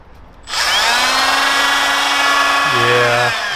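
A Makita 18-volt cordless router with worn bearings spins up to a loud, steady high whine that holds for about three seconds, a lower droning tone shifting near the end as it runs on alone.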